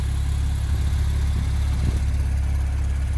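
A 2019 Porsche 911 Turbo S Exclusive Cabriolet engine running steadily at idle, a deep, even rumble heard up close with no voices.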